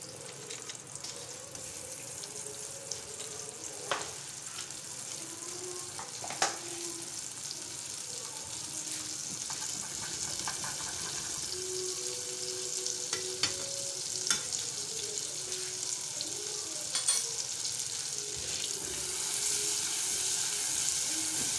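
Three tablespoons of butter sizzle in hot homemade caramel over a low flame, a steady close bubbling hiss with occasional stirring clinks that grows slightly louder toward the end.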